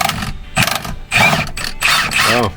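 An impact wrench works a bolt on a Club Car Tempo golf cart, giving several short bursts of rapid mechanical hammering and whirring, loud and close, with brief pauses between.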